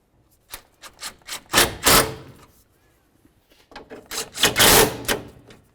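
Radiator mounting bolts on a 2012-2016 Subaru Impreza are snugged up with a ratchet. Two close clusters of rapid, rasping clicks are separated by a short pause, with no talking.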